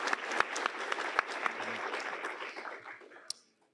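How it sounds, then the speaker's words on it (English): Conference audience applauding speakers at an opening session, a steady wash of clapping with a few sharp individual claps standing out, fading off near the end. "I would like to give a round of applause now to all of them."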